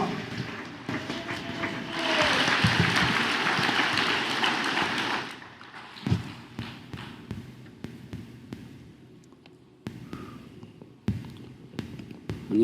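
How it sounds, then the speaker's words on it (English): A church congregation breaks into applause for about five seconds, a broad hiss of clapping that then fades into a quieter room with scattered thumps and small noises. "Let's welcome him up with a big round of applause."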